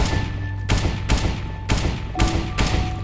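Gunfire from an aim-training session shooting jumping bots in a video game: five sharp, loud shots spaced roughly half a second apart over a steady low game hum.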